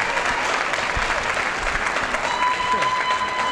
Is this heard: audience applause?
yes